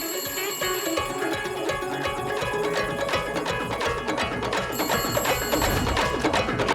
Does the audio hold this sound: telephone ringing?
yes